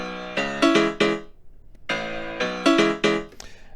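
Piano playing a repeating pattern of chords and notes, heard twice in quick succession, each phrase a rhythmic group of bright struck notes that ring briefly before the next, clear and close with no talking.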